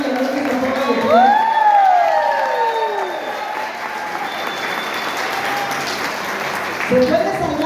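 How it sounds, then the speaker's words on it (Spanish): A church congregation at a Mexico City service claps and cheers loudly and steadily for several seconds, while a rising and falling tonal sweep sounds over the applause. "¡Vamos a un aplauso al pastor Gustavo y a la pastora Leonor que se ponga de pie!"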